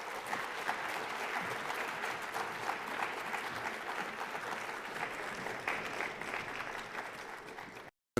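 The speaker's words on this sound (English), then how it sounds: "Let's give them another big round of applause." Sustained audience applause fills a hall at a youth citizenship awards ceremony, steady and dense for about eight seconds before cutting off abruptly at the end.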